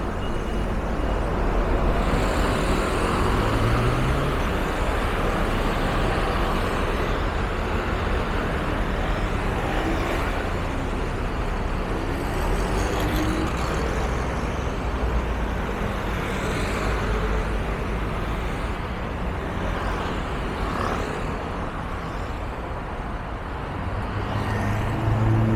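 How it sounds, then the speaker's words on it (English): Taipei city buses move through busy Xinyi Road traffic, their engines rumbling low among passing cars, with a brief air-brake hiss near the start and a continuous roadway roar throughout. "Some of the local bus network."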